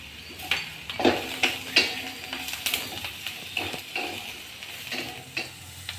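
Green chili paste and turmeric frying in a pan, a soft sizzle broken by several sharp stirring scrapes and clinks of a utensil against the pan, fairly close and without talk.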